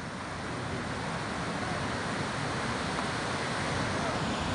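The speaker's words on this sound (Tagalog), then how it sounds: "May alon." Ocean waves wash onto a beach, a steady broadband roar of surf mixed with wind buffeting the microphone, continuous and fairly loud with no distinct breaks.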